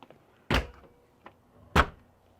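Storage compartment doors on a 2021 Thor Palazzo 33.5 bunkhouse motorhome are shut with two solid, close thuds about a second apart, each followed by small latch clicks.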